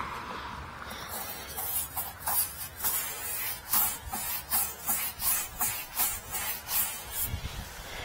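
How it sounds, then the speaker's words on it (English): A brush scrubs old grease off a Jeep Wrangler wheel in a steady run of quick, bristly strokes, close and moderately loud, with no voices. "So what we do is we just keep scrubbing"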